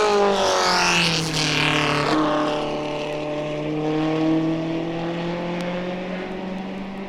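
Race cars at the 1964 Le Mans 24 Hours, Ferraris and a 4.7-litre Cobra, roar loudly with steady engine drone and rising pitch as they pass close and fade slightly.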